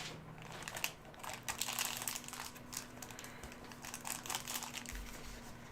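Cellophane packaging on half dollar coins crinkles and crackles in quick irregular bursts, close and fairly quiet, over a faint steady hum.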